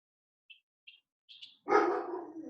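A dog gives a few faint, short yips indoors, then breaks into one loud, near bark that trails off into a rough, fading growl-like tail.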